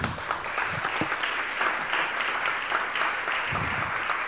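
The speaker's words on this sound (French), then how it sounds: "Je pense qu'on peut vous applaudir." Conference audience at a panel on zero-carbon city building materials claps in a steady, even round of applause, moderately loud and sustained, with a few louder individual claps standing out.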